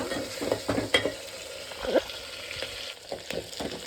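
Fresh coriander leaves fry in a pan, a soft intermittent sizzle with stirring scrapes and small clicks coming and going, close and fairly quiet.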